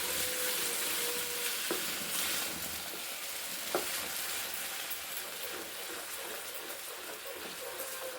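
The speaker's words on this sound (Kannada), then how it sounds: "ಫ್ರೈ ಮಾಡ್ತೀನಿ ತುಪ್ಪದಲ್ಲಿ." Bottle gourd paste fries in ghee with a soft, steady sizzle and faint scraping as it is stirred, a continuous hiss heard close with a few light clicks and no talk.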